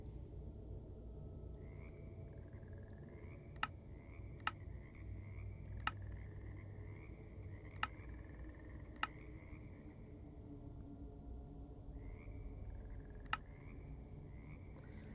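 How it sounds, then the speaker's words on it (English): Frogs croak in a steady, overlapping chorus in a modded Minecraft-style homestead game, heard from above ground. The croaks are faint and rolling, with sharp clicks cutting in now and then. "is that frogs I can hear from up here?"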